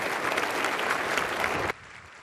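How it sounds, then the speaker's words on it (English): Audience at an economic forecast breakfast clapping for panelists, a dense, loud burst of applause that cuts off abruptly near the end. "let's give a round of applause for our great panelists here today"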